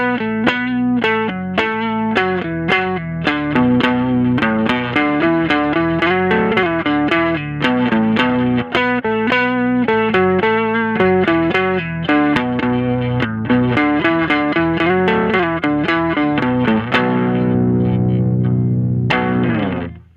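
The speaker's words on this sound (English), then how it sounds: "here's what it sounds like without the octave pedal" Electric guitar without an octave pedal, a clean but effect-coloured melodic riff of quick picked notes played continuously and loud, with a final chord ringing out at the end.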